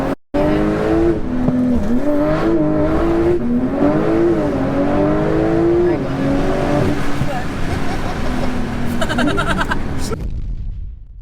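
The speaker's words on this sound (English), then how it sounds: "we are going for a first drive in my now near on 1100 brake horsepower Porsche 911 Turbo S" A tuned Porsche 911 Turbo S making about 1100 bhp launches hard, its loud close engine note climbing through rising revs and gear changes with tyre noise, then cutting off sharply at the end; voices can be heard in the cabin.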